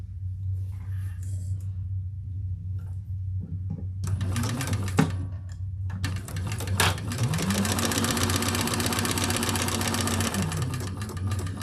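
A sewing machine stitches an extra piece onto a double-sided leather tote, starting with a few tentative stops and then running in a fast, steady mechanical whir with rapid needle clatter.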